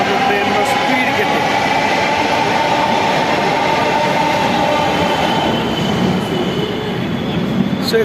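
Delhi Metro train running at speed, heard from inside a carriage as a loud, steady rumbling roar with rail noise and a faint high whine throughout.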